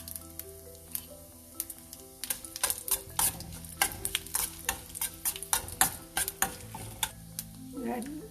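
Mustard seeds, cumin seeds and red chilies frying in oil in a kadai, with a steady sizzle and rapid seed pops and crackles, plus stirring and light clinks from a utensil against the pan.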